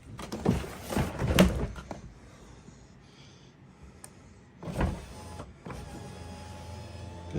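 A newly installed power window motor and regulator in a Chevy car door runs in short whirring bursts. A strong run comes first, then a quieter hum, then another motor run. It is close up and has no speech.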